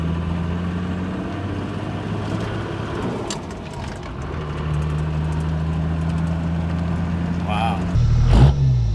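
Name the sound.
Toyota Land Cruiser engine with 3-inch Outback exhaust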